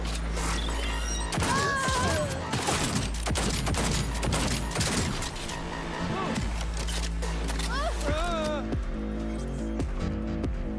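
Rapid bursts of gunfire from Cyberpunk 2077 Phantom Liberty crackle through a dense, loud game mix with music and effects, shots clustering in volleys across most of the stretch.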